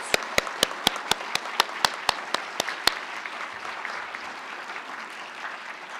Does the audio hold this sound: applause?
yes